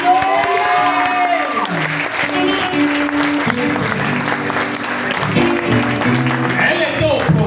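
A church congregation applauds in a steady run of clapping, with a voice speaking and sung or shouted tones rising over it throughout.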